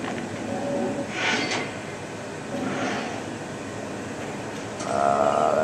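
Subway train in the video game Darksiders, a steady rumbling rail roar with swelling whooshes and a brief squeal near the end, running alone without voices.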